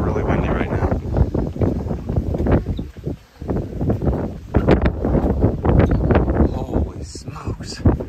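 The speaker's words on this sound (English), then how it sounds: "it is really windy right now" Strong wind buffets a tall observation tower at Myakka River State Park in Sarasota, Florida, roaring steadily and close at the microphone while a person talks over it throughout.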